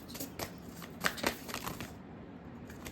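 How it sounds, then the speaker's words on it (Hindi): A deck of tarot cards being shuffled during a card reading, a run of soft riffling flutters and slaps over about two seconds, close and fairly quiet, then settling to near silence. "Okay, I want to shuffle one more card."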